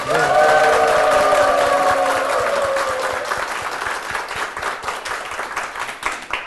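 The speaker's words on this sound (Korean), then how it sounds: "우리 서광교회를 위해서 또 담임 목사님을 위해서 큰 박수 부탁드리겠습니다" An audience applauding inside a church, dense clapping that holds strong then slowly thins into scattered claps, with a few brief cheers and sustained tones from a sound system at the start.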